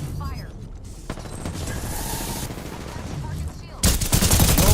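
Gunfire in the online shooter Apex Legends on PC, with a burst of rapid shots and mechanical clatter rising loud near the end over game noise.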